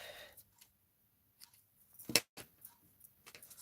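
Scissors snip through craft material for a Christmas countdown decoration, a short sharp cut standing out alone against quiet, with a few faint handling rustles around it.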